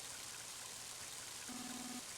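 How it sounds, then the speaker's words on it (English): Heavy rain in the Game Boy Advance game Mother 3 falls as a soft, steady synthesized hiss, faint and continuous, with a short low tone rising near the end. "Mighty heavy rain, isn't it?"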